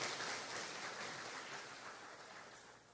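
Church congregation applauding: a dense, steady wash of many hands clapping, moderately distant, slowly fading toward the end with no talking over it.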